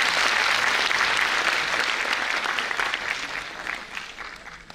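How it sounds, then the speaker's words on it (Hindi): An audience claps steadily throughout a Brahma Kumaris dedication ceremony, the applause dense and loud at first, then gradually thinning and softening toward the end. "तालियों से आप साथ देंगे।"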